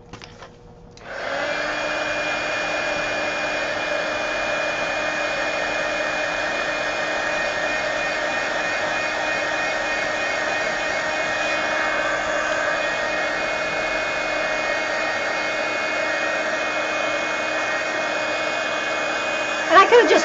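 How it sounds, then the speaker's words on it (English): A heat gun drying paint on art journal pages: a loud, steady, close-up whooshing blower hum with a whining motor tone, starting abruptly after a moment of quiet and running continuously until a brief clatter at the end. "Now I'll have to take the heat gun to them."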